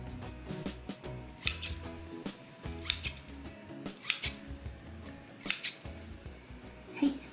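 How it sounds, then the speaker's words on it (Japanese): Scissors snip repeatedly through the middle of proofed, butter-rich hotel bread dough, giving a series of crisp, close metallic cuts at an uneven rhythm over soft handling noise. "そしたらこの真ん中のところをハサミで切っていきます。"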